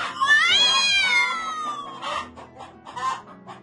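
A hen clucks in a short run of close calls after a long drawn-out cat-like wail, fairly faint, with no talk over it.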